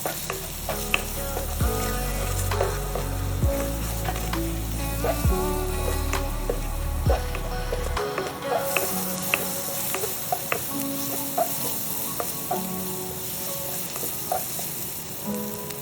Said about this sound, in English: Gently saute for about 5 minutes, stirring occasionally.